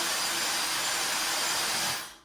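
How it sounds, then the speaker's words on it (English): A handheld blow dryer roars steadily while drying hair at the roots, a loud, close, broadband whoosh of air that holds constant for about two seconds before cutting off. "Blow dry at the root, but making sure that the blow dryer is not touching your hair."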